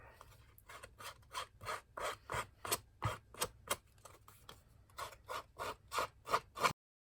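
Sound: scissors cutting paper gift tags

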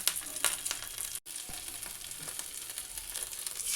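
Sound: spices splattering while frying ash gourd recipe

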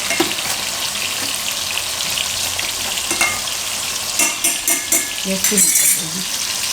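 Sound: ladle stirring sizzling tomato mixture

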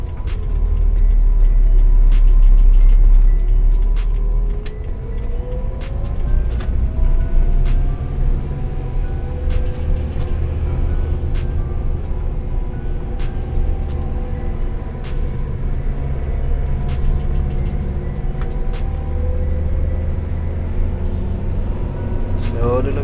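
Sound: manual car engine revving as driver presses the gas

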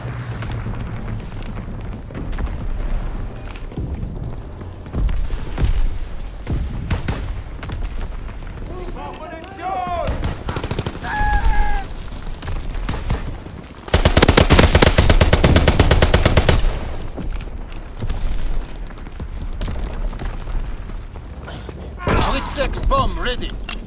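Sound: fighter plane strafing with machine guns, video game Call of Duty WWII

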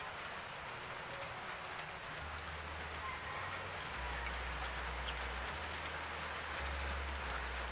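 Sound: rain falling

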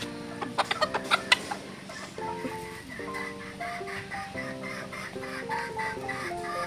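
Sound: chickens and roosters pecking

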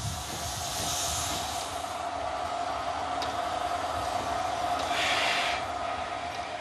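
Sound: train arriving at a station platform

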